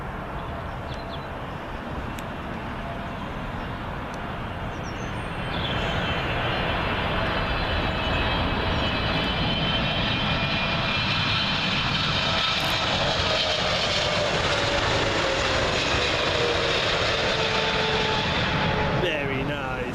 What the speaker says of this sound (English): Next arrival in from Kuwait City, Kuwaiti 777 cargo variant.